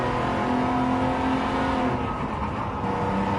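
Race car engine in the video game Gran Turismo 7 revving steadily at high pitch, holding a loud continuous whine with slight pitch changes as it accelerates.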